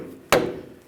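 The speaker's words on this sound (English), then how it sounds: "use a rubber mallet" One sharp, close rubber mallet knock as a new front lower control arm is tapped into place on a 2014-2018 GMC Sierra 1500, a single thud that fades quickly with no talk.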